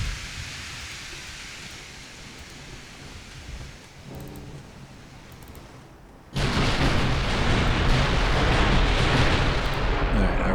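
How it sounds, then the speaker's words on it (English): Battleship guns fire high explosive shells in UA: Dreadnoughts, a steady rumbling barrage of naval gunfire that suddenly swells into a louder, dense roar of shots and blasts partway through. "I really don't know why we're firing high explosives at the battleship and not armor piercing"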